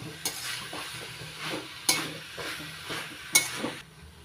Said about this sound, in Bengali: নাড়াচাড়া করে মিশিয়ে নিচ্ছি বড়াগুলো মোচার সঙ্গে।